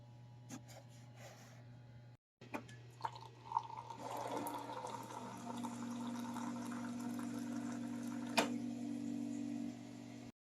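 Hot water pours into a cup for coffee, a soft rising trickle and fill sound that starts after a few clicks and bumps and continues at a quiet, close level over a low steady hum.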